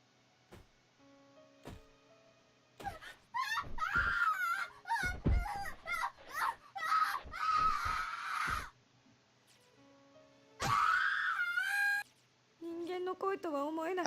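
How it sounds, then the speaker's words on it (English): A boy screaming in the horror video game Corpse Party: Blood Covered, heard as drawn-out anguished wails and sobbing cries that come in bursts and break off into quiet pauses, with faint thuds between them. "I've never heard screaming like this before."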